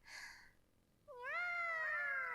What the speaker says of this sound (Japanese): その猫はこんな風に鳴きます